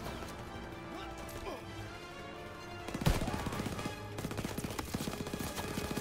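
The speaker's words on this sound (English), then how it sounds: "Who's shooting at me, man?" Gunfire in a World War II video game set in Paris: quiet ambience, then one sharp, close shot followed by a rapid rattle of further shots and clatter.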